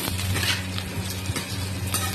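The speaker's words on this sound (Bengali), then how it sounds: "একটু ভাজা ভাজা করবো হালকা করে, আলু আর পেঁয়াজটা নেড়ে নেবো" Potatoes and onions being stir-fried in a pan give a steady close sizzle with soft scraping stirs and faint utensil taps, continuous and without speech.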